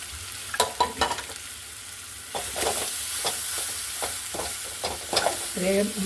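Lemon is stirred into a hot, sizzling pan mixture for a ginger, lemon and mango dish, with a spoon scraping and tapping in quick irregular strokes over a steady close frying hiss.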